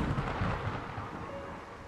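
Thunder from lightning in the video game VOIN: a loud, rumbling, broadband roll that fills the whole clip and fades slightly toward the end, heard alone with no talking.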